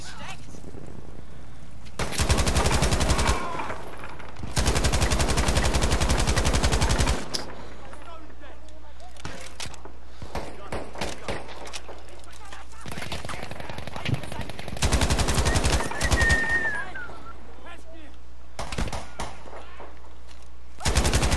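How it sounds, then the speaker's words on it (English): A machine gun in a video game fires in several long, loud bursts of rapid shots, separated by quieter stretches with scattered single shots and occasional talk. "let's put the machine gun in placement."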